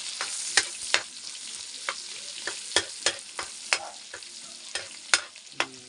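Garlic frying in a pan while cooking pansit, a steady hiss of sizzling oil punctuated by repeated sharp clicks and scrapes of stirring, close by.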